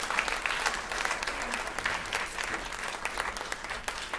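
Audience applause at a piano recital for Polish independence fills the hall, a steady dense clapping at moderate level with no break and no voices over it.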